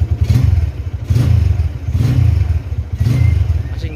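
Violet 2013 motorcycle engine revved with the throttle, a loud, close, rumbling drone that surges in repeated pulses roughly once a second.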